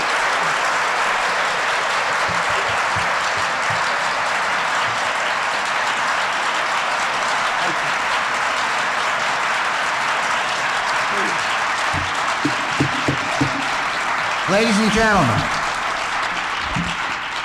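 Sustained audience applause fills an auditorium after an introduction at a 1980 lecture featuring a speaker, steady and dense throughout, with a voice briefly speaking near the end.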